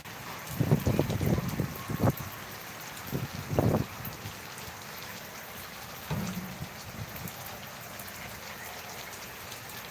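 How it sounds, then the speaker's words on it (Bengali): Steady rain in Dhaka, Bangladesh patters throughout, with a few louder low thumps and rustles early on before settling into an even wash of falling drops. "আধা ঘন্টা ধরে বৃষ্টি হচ্ছে"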